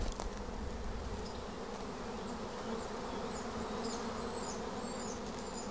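A large swarm of bees from a hive hums in a steady, even drone with individual insects passing close by; nobody speaks.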